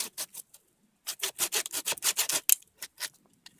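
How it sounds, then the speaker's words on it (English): A hand saw cuts through a solid piece of fatwood, giving quick rasping strokes in short bursts, close and fairly quiet, with a brief pause between the first few strokes and the steady run that follows. "I'm gonna saw off a piece and then we'll test it out"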